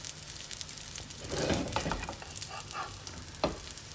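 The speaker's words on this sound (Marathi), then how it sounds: "खालची बाजू भाजली जाईल तशी वरची भाजली गेली पाहिजे आणि ती तुपात खमंग भाजली गेली पाहिजे" Sweet potato tikkis fry in ghee in a pan with a steady close sizzle, and a few scraping turns of a spatula cut through it.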